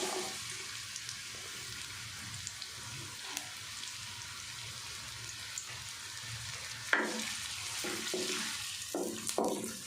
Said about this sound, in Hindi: प्याज को अच्छे से सौते कर लेंगे, लाइट गोल्डन।